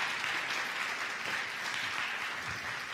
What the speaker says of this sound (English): please give a big round of applause to Steve Walters